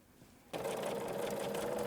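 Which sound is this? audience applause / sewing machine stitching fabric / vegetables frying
sewing machine stitching fabric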